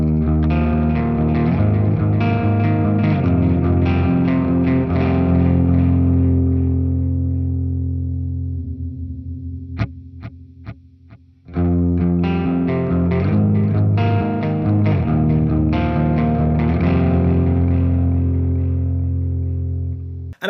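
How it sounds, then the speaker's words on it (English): Distorted electric guitar through a Valeton GP-5 multi-effects unit with wide ping-pong delay and reverb, loud chords ringing out, a few sparse plucked notes during a near-quiet gap midway, then full playing resumes with echoing tails. "For the delay, I think I want a ping pong delay so that we can go nice and wide with it."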